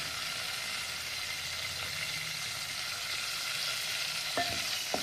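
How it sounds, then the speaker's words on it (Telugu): Curry leaves fry in hot oil in a pan for a mutton curry with spiny gourd, giving a steady, even sizzle throughout with a couple of faint crackles near the end and no speech. "ఈ కరివేపాకు కూడా తీసుకుని దీంట్లో వేస్తున్నాను"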